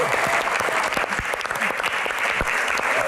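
Dense, steady applause from an audience at a Q&A event, many hands clapping close together with no break for the full stretch.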